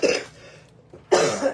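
A person coughs close to the microphone in a small studio, a short harsh burst, a brief pause, then a second cough.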